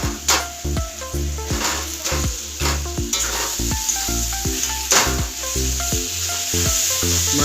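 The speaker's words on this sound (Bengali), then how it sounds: "মাছের মাথা মশলা সব ভালো করে একসাথে একটু কষিয়ে নেব" Fried fish heads hiss and sizzle in spice paste as a spatula scrapes and stirs them in rhythmic strokes, with steady cooking noise and a tonal musical pattern underneath.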